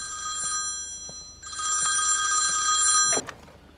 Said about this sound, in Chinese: 让欧阳尊听电话